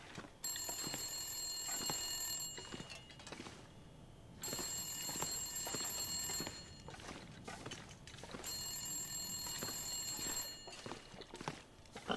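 Telephone ringing in the survival video game The Long Dark, three long bursts of a bright electronic bell separated by short pauses, fairly faint and alone with no talk.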